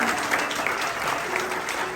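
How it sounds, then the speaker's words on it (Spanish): Church congregation claps for the Lord during an evangelistic service, a sustained, loud wash of applause from a full room. "Dale un aplauso al Señor, gracias, dale un aplauso al Señor."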